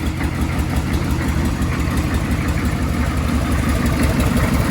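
A 6.5 liter diesel truck engine with new injectors, glow plugs, rails and fuel lines, running at a loud, steady idle with a rough knocking rumble, close by and without talk.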